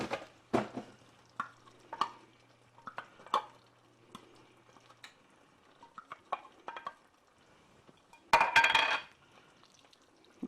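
Chopped green chilies stirred into a pot of chili beans, with scattered spoon clinks and soft scraping taps, one louder burst of stirring near the end, close and quiet.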